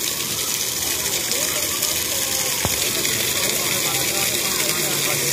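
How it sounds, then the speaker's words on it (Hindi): A village water pump runs steadily while muddy water gushes out, a loud continuous rushing wash that fills the whole stretch close by, with a brief click partway through. "तो अभी जो है हम चला कर चेक करते हैं पंप को"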